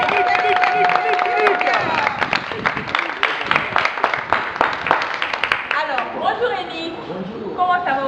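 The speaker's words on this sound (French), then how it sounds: "On applaudit très fort pour accueillir Eric." Studio audience claps and cheers to welcome a performer onto a Cape Verdean variety show stage, a dense burst of applause under a host's voice, fading as talk takes over near the end.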